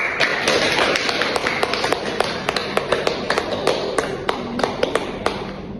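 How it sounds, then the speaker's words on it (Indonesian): Scattered applause rises in a classroom during a microteaching biology lesson: a small group claps in sparse, uneven, sharp claps over a roomy background. "Kita kasih aplaus pada Kaila."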